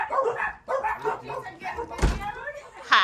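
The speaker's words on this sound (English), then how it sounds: "Get the dogs in." Dogs barking at a rural New Hampshire inn, a couple of short barks and yips heard near, mixed in with people talking over them.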